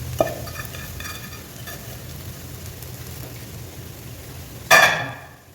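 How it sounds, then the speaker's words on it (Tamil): Grated coconut sautés in oil in a pan, a quiet, steady sizzle with soft stirring scrapes, then a sharp metallic clank from the utensil near the end before it fades, no voices. "எண்ணெயில் வதக்கணும்"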